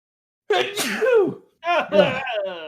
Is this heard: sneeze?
yes